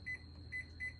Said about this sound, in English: I'm going to open my microwave and we're going to cook it in the microwave for 12 minutes